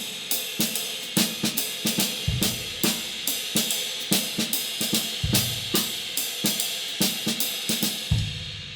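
Jazz drum kit playing a seven-beat broken-time motif with swung eighth notes, cymbal strikes and snare accents over occasional kick drum, in a steady repeating pattern, close and alone.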